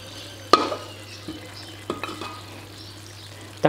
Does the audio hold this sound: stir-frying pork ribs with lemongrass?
yes